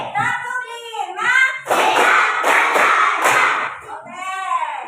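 Fifth-grade schoolchildren in a classroom clap as a group in a counted pattern, a run of loud, rhythmic claps between stretches of chanted voices.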